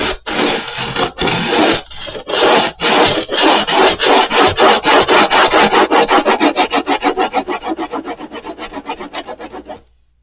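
Rhythmic rasping strokes of a classical acoustic guitar saddle sanded on sandpaper, starting slow and spaced, then speeding into quick, even back-and-forth rubs that fade at the end.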